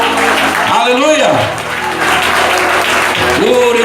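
Applause from a church congregation during a Sunday morning service fills the space, with continuous clapping under voices and a loud, reverberant hall sound.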